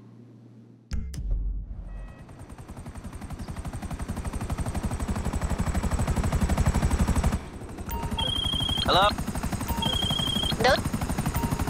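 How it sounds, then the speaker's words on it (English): A GTA 5 helicopter roars with dense, rapid rotor chopping that builds in loudness as it lands on a helipad, with a couple of brief electronic beeps and a short spoken exchange over the engine. "Okay, I'll get it landed on the helipad."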